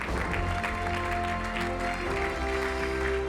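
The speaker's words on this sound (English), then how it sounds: "On peut l'applaudir." An audience at a sports awards ceremony applauds continuously under steady music-like tones, the clapping even and moderately loud throughout.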